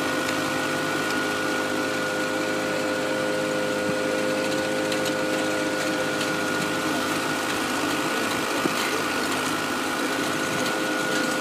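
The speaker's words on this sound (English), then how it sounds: "Here's the dry washer in action." Engine-driven dry washer running at a gold prospecting site along Route 66; a steady mechanical whine and rattling clatter with constant tonal hum, continuous and fairly close.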